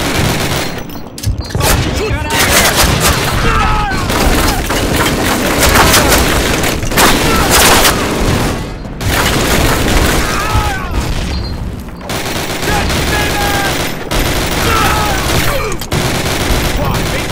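Cannon blasts and dense gunfire from a World War II battle in the Call of Duty video game, loud and continuous with repeated booms and rattling volleys, while soldiers shout over the chaos.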